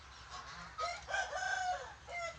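Chickens cluck and a rooster crows around a Thai rural homestead, the bird calls rising mid-clip over a low background hum, moderately near with no one talking.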